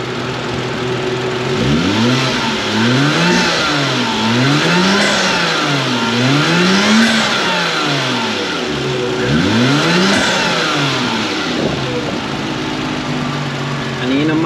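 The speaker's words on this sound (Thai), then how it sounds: "เดี๋ยวผมเร่งน้ำมันให้ดูนิดหน่อย" An Isuzu Dragon Eye pickup with a swapped 1JZ-GTE engine, which runs poorly on the road, is revved on petrol from idle. About half a dozen loud, close throttle blips rise and fall in a steady rhythm over a rough running drone.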